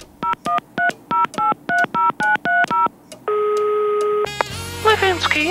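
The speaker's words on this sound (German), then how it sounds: "Wollen wir mal die Wiederwahltaste drücken." A rapid series of telephone keypad tones from the redial button beeps in quick succession, followed by a longer steady tone, then a voice begins speaking.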